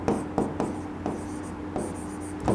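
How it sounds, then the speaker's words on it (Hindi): Marker or chalk strokes writing book names on a classroom board, a series of short distinct taps and scratches at an irregular rhythm, close and clear with little talk. "यहां मैं नाम लिख रहा हूं बुक्स के"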